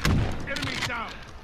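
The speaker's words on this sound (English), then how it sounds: "Oh, that's a freaking grenade." A grenade blast in the shooter Call of Duty Warzone: one sharp, loud burst followed by a short rumbling tail. Nearby voices talk over it.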